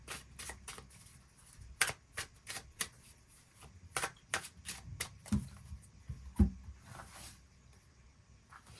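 Tarot cards being shuffled and drawn by hand, a string of crisp riffling bursts and soft slaps at an uneven pace, close and fairly quiet with no talking.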